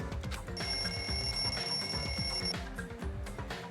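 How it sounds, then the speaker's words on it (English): A wall clock alarm in the Danganronpa 2 video game rings in a lounge, a steady electronic bell tone that sounds for about two seconds over continuous game music, then cuts off. "The lounge's wall clock alarm started ringing at 5:30."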